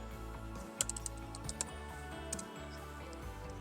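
Typing a command on a computer keyboard at a Kali Linux terminal, with a few sharp, scattered key clicks over a steady hum.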